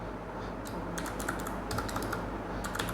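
Someone types on a computer keyboard nearby in short, irregular bursts of crisp key clicks over a quiet background.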